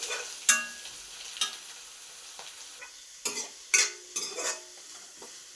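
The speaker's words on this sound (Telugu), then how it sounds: "ఆయిల్ వేడెక్కాక బాగా ఫ్రై చేసుకోవాలి." Onions frying in hot oil for fish curry, a quiet sizzle broken by several sharp stirring scrapes and clinks of a spoon against the pan.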